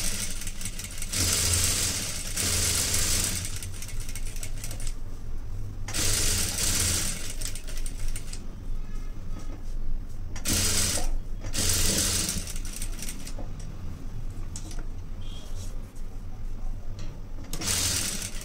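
A new sewing machine stitches a plain blouse in a tailoring lesson, running in repeated bursts of fast whirring needle action separated by short pauses.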